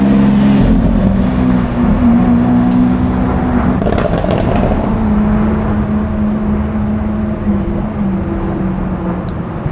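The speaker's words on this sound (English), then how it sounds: "That might be the quietest Aventador I've ever heard in my life." Lamborghini Aventador engine on a Tokyo street, a steady low droning hum with a brief rise in pitch, held close and loud without talk.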